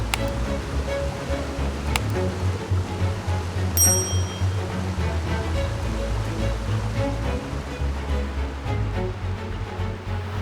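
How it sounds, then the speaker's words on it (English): Small mountain stream on the trail to Scafell Pike in England, trickling down over a few little waterfalls on a summer day; a steady, continuous broadband rush of water, fairly close and unbroken, with no talking. "the stream's really quite pretty and it's just trickling on down with a few waterfalls"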